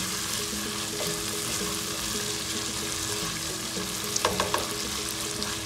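Sisig made from bangus is stirred in a hot pan, a steady close sizzle of frying with a few brief clinks of the utensil near the end.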